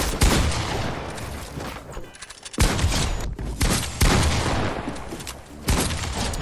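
Loud, sustained bursts of automatic gunfire from a console first-person shooter, dense rattling volleys broken by brief pauses, with heavy booms mixed in and no talk.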